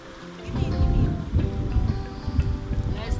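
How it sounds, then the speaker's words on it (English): Low rumbling thunder rolls through steady rain beside a river, a deep broad roar swelling and fading over a few seconds at moderate distance. "Nice thunder rolling up."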